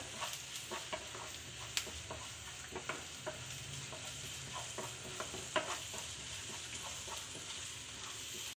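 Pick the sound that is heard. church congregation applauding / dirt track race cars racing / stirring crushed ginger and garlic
stirring crushed ginger and garlic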